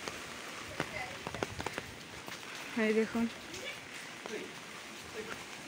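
Steady rain patters in the background the day after Cyclone Remal while someone speaks briefly near the start and middle.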